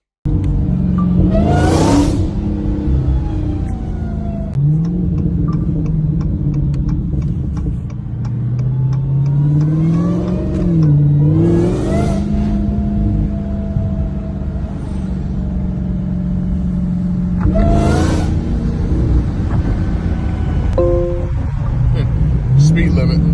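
A Dodge Demon 170 drives and accelerates, its engine droning and rising in pitch through several revs, with someone talking over it.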